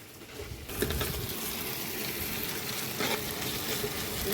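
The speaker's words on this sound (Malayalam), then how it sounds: "സവോള വാട്ടിക്കൊണ്ടിരിക്കാനാണ്." Sliced onions sautéing in oil in a pan for a mutton curry, a continuous close sizzle and crackle with occasional stirring scrapes and clinks, no talking.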